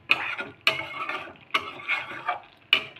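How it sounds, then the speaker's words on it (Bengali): Spoon stirring fried spices and garam masala powder into a potato curry (aloo dum), giving a few scraping, clinking strokes against the pan in an uneven rhythm, close and moderately loud with no talk. "এখন ভাজা মশলা আর গরম মশলা গুঁড়ো দেওয়ার পর ভালোভাবে মিশিয়ে নেওয়া হলো।"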